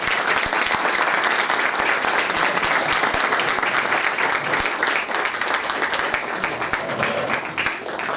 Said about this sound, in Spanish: vamos a recibir con un cálido aplauso